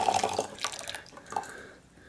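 Hot water poured over Orchid Oolong tea leaves for a quick rinse, splashing and dripping in short bursts that trail off into faint trickles.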